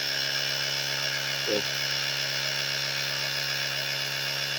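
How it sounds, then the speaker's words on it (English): An Auxito jump box's built-in air compressor inflates a classic car tire, running as a steady, loud mechanical drone with a constant whine throughout. A voice briefly speaks a single word near the middle. "You do have to push the power button to start the compressor."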